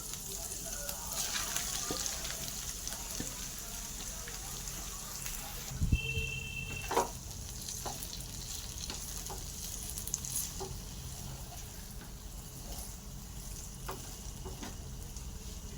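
Ground lentil paste frying in a pan for dal puri filling, a soft continuous sizzle with occasional spatula scrapes and knocks, faint and close, a couple of sharper clinks midway.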